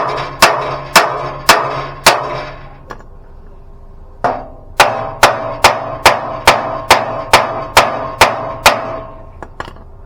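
A hammer beats on metal during a kayak trailer build: loud, close, ringing blows struck in quick, steady runs with a short pause in between.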